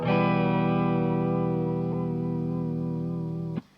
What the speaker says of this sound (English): next we've got this sine wave with an octave